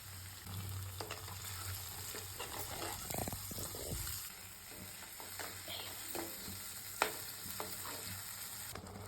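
Tamarind juice mixed with dried red chillies, curry leaves, ginger-garlic paste and turmeric is stirred in a pan. Soft, low bubbling and sizzling continue under occasional light scrapes of the spoon, faint and steady, with no talking.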